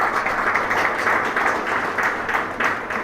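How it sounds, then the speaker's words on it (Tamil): An audience claps throughout a union meeting about electricity board wages, a steady, moderately loud patter of many hands with small swells, heard alone. "நல்லா கைத்தட்டலாம்."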